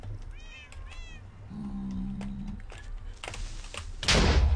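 Several cats meowing in Minecraft: a couple of short, rising meows followed by a longer drawn-out one, then a thud and a burst of noise at the end.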